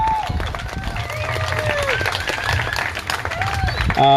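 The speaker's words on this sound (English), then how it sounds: "give yourselves a huge round of applause for showing up today" Protesters at a support-Victorians rally clap and cheer in a lively burst of applause, many hands and raised voices mixing with crowd chatter throughout.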